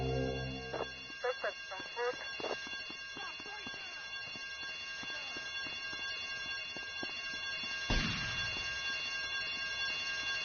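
Alarm ringing in a Grand Theft Auto video game, a steady tonal drone running throughout under scattered clatter and a loud burst near the end.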